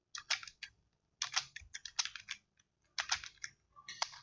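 Typing on a computer keyboard while writing HTML paragraph text, in quick bursts of close, crisp key clicks separated by brief pauses.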